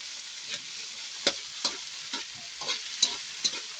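Snails frying with shrimp paste sizzle steadily in a pan while a utensil stirs them in several soft scraping strokes.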